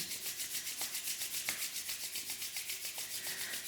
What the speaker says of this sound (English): Palm meets palm. And start wobbling the hands so that you create some heat.